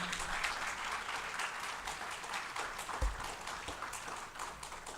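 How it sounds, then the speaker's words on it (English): Audience at a Uganda–UAE business forum applauds the Prime Minister, a steady, dense round of clapping from a large crowd heard close and continuous for several seconds. "Can we give the Right Honorable Prime Minister another round of applause?"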